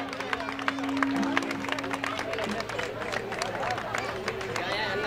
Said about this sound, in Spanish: Vamos con ese aplauso para Lugarejo.